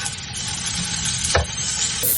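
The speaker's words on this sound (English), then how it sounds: "Stir-fry the green beans for a few minutes until get golden brown." Green beans stir-frying in a hot pot give a steady, close sizzle with a brief scrape of stirring partway through.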